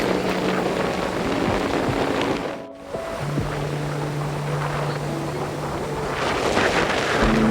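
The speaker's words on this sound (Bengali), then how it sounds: "সমুদ্রের আওয়াজ শোনাচ্ছি।" Sea waves roll in under strong, buffeting wind at Mandarmani beach on a cloudy day, a loud continuous roar with a brief dip in the middle and a faint tonal hum threading through.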